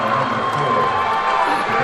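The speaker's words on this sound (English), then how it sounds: "Listen to the crowd." A basketball crowd at a boys' high school game cheers in a loud, sustained roar that fills the gym, steady for the whole stretch, with voices mixed in.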